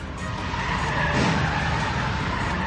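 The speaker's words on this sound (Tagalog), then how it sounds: "biglang umatras ang SUV at nagpaikot-ikot pa sa isang gasolinahan" An SUV reversing abruptly and spinning around at a gas station, a loud continuous tire squeal and skidding with engine noise, close and sustained throughout.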